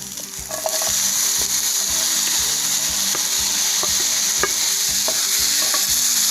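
Red chilies and tomatoes sauté in a pan for a South Indian meal, a loud, dense sizzle punctuated by regular scraping strokes of a spatula, close and continuous throughout.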